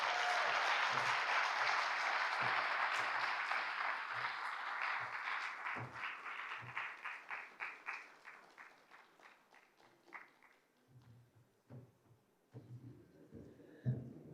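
Graduation ceremony audience clapping loudly and continuously at first, then thinning into scattered, uneven claps with a few brief voices as the applause dies down.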